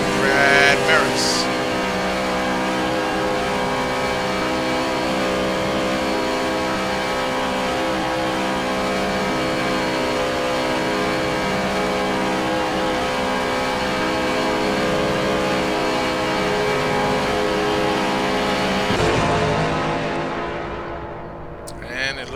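Race car engines, including a Porsche, drone continuously during a Nordschleife race in a video game, a steady loud roar that fades near the end, with a commentator talking over it.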